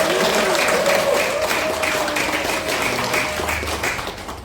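A crowd at a lecture in Cheonan breaks into loud, sustained applause with cheering, dense clapping that slowly fades toward the end.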